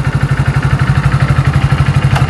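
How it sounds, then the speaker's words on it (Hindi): A Hero Splendor Plus BS6 motorcycle idles up close, its single-cylinder engine giving a loud, even, rapid thumping putter that stays steady throughout with no voices. "और इंजन साउंड आप सुन सकते हैं"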